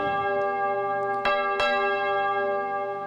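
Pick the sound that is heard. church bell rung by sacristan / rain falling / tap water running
church bell rung by sacristan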